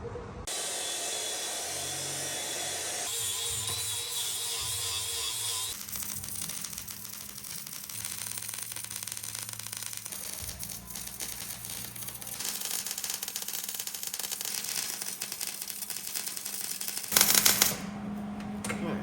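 Tack welding on a steel three-wheeler frame: a steady crackling, hissing buzz of the welder runs continuously at moderate level, with shifts in tone between tacks and a brief louder burst near the end.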